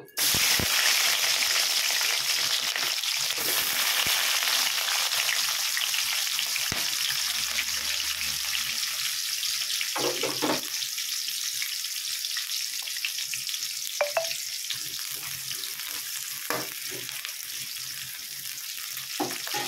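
Chopped onions and green chillies hit hot oil in a pan and sizzle steadily and loudly throughout, with occasional stirring scrapes and taps over the continuous hiss, and no talking.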